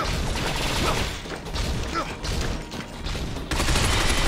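Steady rapid gunfire from the shooter video game Binary Domain, a dense clattering barrage with mechanical rattles that runs continuously and swells again near the end, loud and close.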